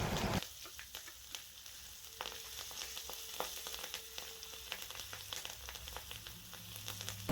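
Spices with cinnamon, turmeric and slit green chillies fry in mustard oil, a steady close crackling sizzle with scattered pops and light stirring scrapes throughout, fairly soft in level.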